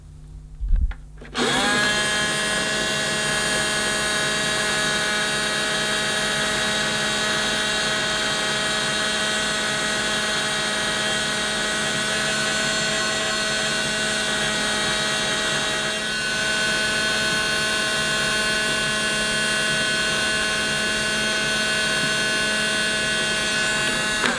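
Miele S5 toy vacuum cleaner by Theo Klein switching on with a click, then a loud steady whining motor drone with suction through the bare hose end, continuous and close, with a slight shift in tone partway through.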